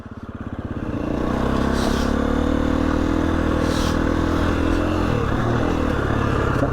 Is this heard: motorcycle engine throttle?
yes